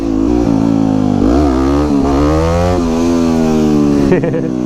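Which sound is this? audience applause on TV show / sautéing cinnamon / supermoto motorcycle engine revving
supermoto motorcycle engine revving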